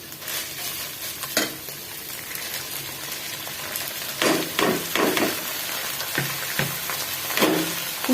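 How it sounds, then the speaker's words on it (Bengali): Chopped cabbage stir-fried with chicken in a pan gives a close, continuous sizzle, broken by several louder scrapes and clanks of a spatula stirring. "কুচি করে রাখা বাঁধাকপি দিয়ে দিলাম। দিয়ে দিলাম গাজর"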